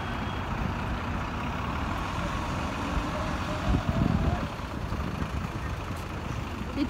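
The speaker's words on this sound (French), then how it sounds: "Parce qu'il y a pas mal de circulation" Steady road traffic on a busy Paris street, a continuous broadband rumble of passing vehicles with a heavier truck-like surge partway through, moderately loud and without talk.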